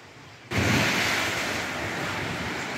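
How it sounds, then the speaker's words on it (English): Ocean waves blast into a sea cave on Flowerpot Island in Tobermory, a sudden loud surge of water breaking in after quiet, then a sustained roaring wash with wind noise. "every once in a while you get a big uh, blast of water that hits and comes on inside"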